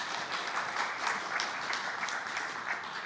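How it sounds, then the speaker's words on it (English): Steady applause from a conference audience greeting a panelist being introduced at an energy transition session, sustained and fairly even throughout. "Please, applause."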